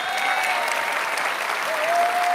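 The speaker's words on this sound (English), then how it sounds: "Let's give her a round of applause." Steady, dense applause from a town hall audience in California's 22nd district fills the room for the full stretch, loud and even, with no voices over it.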